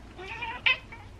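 A house cat on a bench gives a short, fairly close meow with a sharp peak near the middle, under low room noise.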